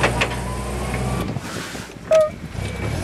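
A forklift rolls forward under test, with a steady broadband mechanical drone from its drive and a brief whining squeal near the end as it moves.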